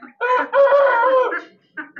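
Farmyard chickens, including a white hen that looks unwell, call out in a loud, drawn-out crowing-like cry, with short clucks before and after it. The birds are fed corn.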